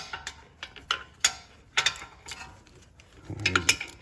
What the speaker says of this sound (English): With two 13 millimeters in the back here, those get these long slide pin bolts out.